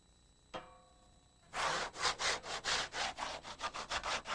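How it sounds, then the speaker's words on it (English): A cured fiberglass deck membrane is scuff sanded, a steady series of close, rhythmic rasping strokes that follows a single sharp knock. "They're going to give it a scuff sanding now that the membrane is cured"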